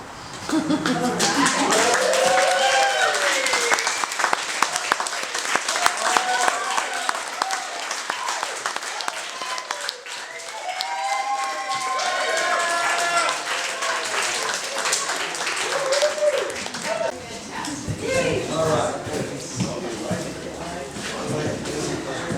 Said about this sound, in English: another round of applause for that Narci